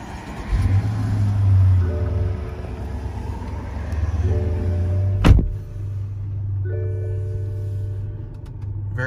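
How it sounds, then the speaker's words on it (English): A 2016 BMW X5 SUV starts by push button, the engine catching with a brief loud burst and settling into a low steady idle rumble close by, with short electric whirs before and after. "Push button start."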